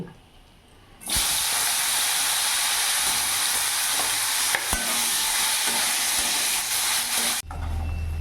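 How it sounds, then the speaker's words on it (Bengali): Bitter gourd pieces drop into hot oil and burst into a loud, steady, close sizzle that holds for several seconds before cutting off abruptly. "এবার ওই তেলের মধ্যেই আমি উচ্ছে ভেজে নেব"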